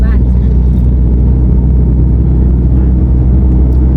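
Cars and trucks crawl bumper to bumper in a traffic jam at the Boon Bang Fai rocket festival in Maha Sarakham, a loud close engine rumble that fills the clip with a voice briefly over it.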